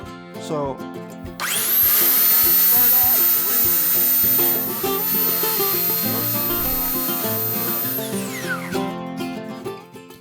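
A belt sander runs hard against wood for several seconds, its loud steady whine and grinding rasp starting abruptly, holding with slight variation in pressure, then cutting off, with faint handling noise before and after.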